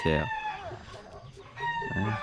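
Chickens on a rural home farm cluck nearby and a rooster gives close, loud crowing bursts at the start and end of the short stretch.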